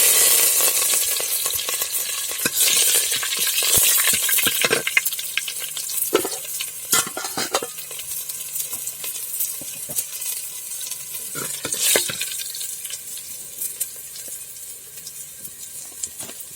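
Curry leaves dropped into hot garlic oil sizzle and crackle steadily in a frying pan, with sharp stirring scrapes and a few louder spatters over a continuous bright hiss.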